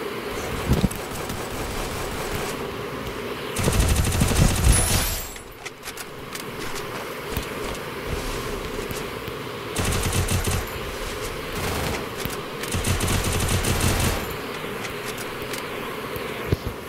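Automatic rifle fire rattles in a Free Fire battle royale ranked match, coming as several sustained bursts separated by quieter stretches of game ambience.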